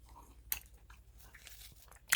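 Crunchy homemade Spanish bread, toasted underneath, is bitten and chewed close up, with two sharp crunches and soft chewing between, quiet overall.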